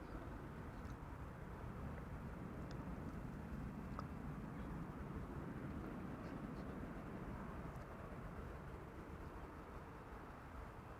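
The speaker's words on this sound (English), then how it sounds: "Saudia flight 933 is a 747-400 freighter arriving from Jeddah" A Saudia Boeing 747-400 freighter arriving from far away makes a faint, steady low jet rumble that barely changes over its length.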